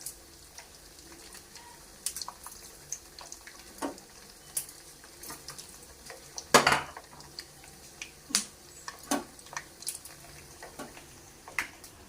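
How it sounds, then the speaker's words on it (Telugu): Dried red chillies snapped and torn apart by hand while making raw mango pulihora, a scattering of sharp, dry cracks and crackles at irregular intervals, one louder snap standing out midway, close and fairly quiet. "ఎండుమిర్చి ఒక ఐదు అలా తుంచేసుకున్నాము"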